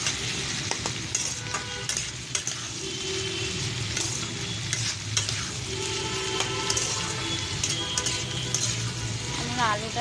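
Cabbage and sliced onion fry in a pan, a continuous sizzle with scraping and stirring clicks throughout, under faint background sounds.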